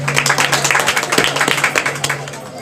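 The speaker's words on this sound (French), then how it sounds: "Je veux des applaudissements pour ce monsieur." Applause from an audience at an AEEND gathering: a dense, uneven patter of hand claps runs for a few seconds over a steady low electrical hum, with faint voices mixed in.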